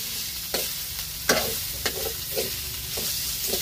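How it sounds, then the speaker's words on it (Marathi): Spice masala paste roasting in a pan for a spicy fish curry, sizzling steadily up close while a spoon scrapes and stirs it in several distinct strokes; nobody speaks. "आता मस्तपैकी मसाला आपण भाजून घेणार झणझणीत रस्सा बनवायसाठी."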